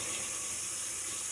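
Water runs steadily from a tap into a sink, a constant close hiss and splash with no pauses.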